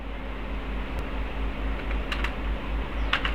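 Keyboard clatter as an AutoCAD command is entered on a computer keyboard, with several quick clicks and a short burst of keystrokes over a low steady hum, alone and close.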